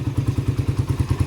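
A 206cc motorcycle engine with an open air screw, 32mm carburetor and stock coil runs right after one kick-start, giving a fast, even, thumping idle pulse that is loud and close.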